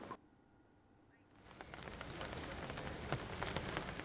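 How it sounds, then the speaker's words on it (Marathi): Heavy monsoon rain in Pimpri Chinchwad, near Pune, with flooding around a temple, hisses steadily onto surfaces, starting quieter and building into a dense, loud, continuous downpour with scattered droplet patter. "पुणे आणि आसपासच्या परिसरामध्ये सातत्याने पाऊस सुरू आहे"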